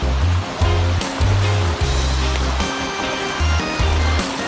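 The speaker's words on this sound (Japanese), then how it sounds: "なんか川も流れててすごいね" A mountain stream flows beside a path up a cherry-blossom hillside, its steady rushing water loud and close, with deep repeated low thumps and rumbles over it.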